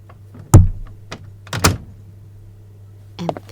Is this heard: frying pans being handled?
no